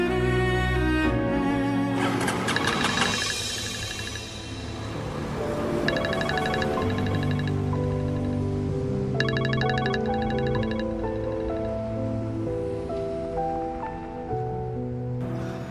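A mobile phone ringtone plays as a melodic, repeating electronic tune with bright chiming bursts, steady and fairly loud for the whole stretch with no voices over it.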